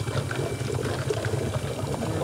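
Water bubbling steadily through an HHO gas bubbler fed by an electrolysis cell producing about 8.6 liters per minute, a continuous close gurgling fizz with no voices.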